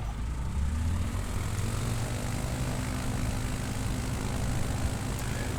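A bush plane's propeller engine runs at full throttle in Microsoft Flight Simulator 2020, a steady loud drone with a low throbbing hum that holds unchanged throughout.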